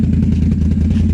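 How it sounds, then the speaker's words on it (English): A deep, throaty exhaust from a 2019 Can-Am Renegade 1000 XMR ATV rumbles loudly and steadily up close, a brief low pulsing drone with no voices. "that exhaust does sound good."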